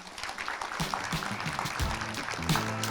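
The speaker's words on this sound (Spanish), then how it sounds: "Les damos un aplauso." Audience applause after a panel of technical experts, light clapping running under a voice that talks across most of the short stretch.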